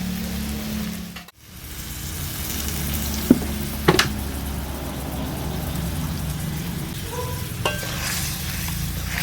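Spinach, spring-onion greens and winter vegetables in a hot pan give a steady low sizzle and bubbling throughout, with a brief dip early on and a few sharp clinks of a utensil against the pan.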